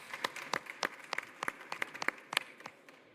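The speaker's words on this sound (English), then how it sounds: "let's give an applause to our panelists" An audience at an aviation conference forum gives sparse, faint applause for the panelists, with scattered individual claps that sound distant and quiet.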